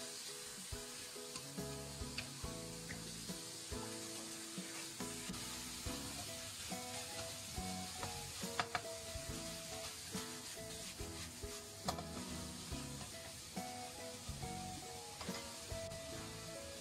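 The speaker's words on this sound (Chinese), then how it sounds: "酸菜入锅以后，保持大火，快速的翻炒" Pickled cabbage stir-fried in a wok over high heat, a steady close sizzle with repeated scraping and clinking of a spatula against the pan as it is tossed quickly.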